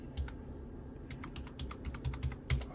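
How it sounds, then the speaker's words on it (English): Typing on a wireless computer keyboard in a workshop, a close run of quick, irregular key clicks with a short pause early on, then a louder final keystroke. "The wireless keyboard seems to be working."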